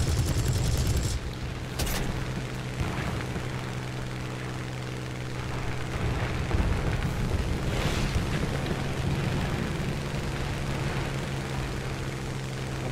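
Bursts of aircraft machine-gun fire in the War Thunder flight game, Battle of Britain single-player, short rattling volleys over a steady propeller engine drone, moderately loud.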